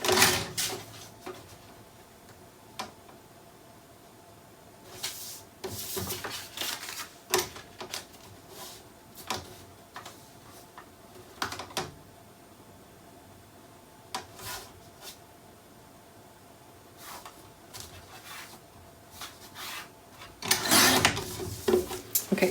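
Quiet paper trimming for a Graphic 45 Home Sweet Home project, with scattered short scraping and cutting strokes and soft taps against a low, steady background, close and mostly alone.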